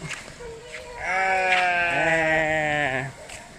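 A sheep on a farm lets out one long, loud, wavering bleat close by, with softer noises around it before and after.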